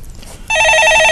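A telephone ringing on a radio stock-market call-in show, a loud, sharp electronic ring that bursts in after a brief quiet moment and holds steady to the end.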